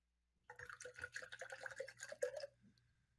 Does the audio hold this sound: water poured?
yes